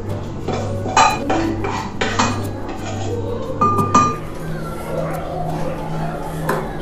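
Onam-special puli inchi ginger curry is moved into a small vessel as a spoon and metal pots clink and scrape several times nearby over a steady background hum.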